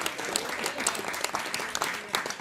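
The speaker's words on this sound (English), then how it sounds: "A round of applause for free dinner." Studio audience clapping at a televised dating game show, brief uneven claps, fairly close and moderately loud, with some faint voices mixed in.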